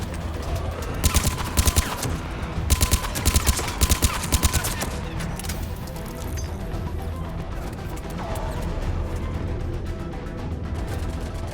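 Bursts of gunfire in the video game Mass Effect 3, rapid clustered shots in several volleys over a dense background of game music and effects, fading into ambient noise later.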